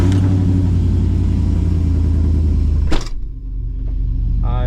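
A swapped LS1 V8 in a 1992 Chevy C1500 pickup holds a loud, high, buzzing rev before cutting off abruptly at the rev limiter, dropping to a quieter idle.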